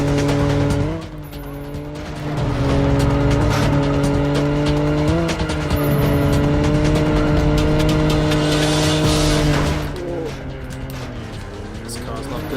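An Aston Martin in the PS2 game James Bond 007: Agent Under Fire (2001) drives hard through corners. A steady, loud engine drone shifts pitch while tires squeal and skid along with it.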